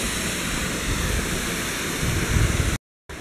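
A waterfall roars as a dense, constant broadband rush heard from close by, steady throughout apart from a brief cut to silence near the end, with no talk.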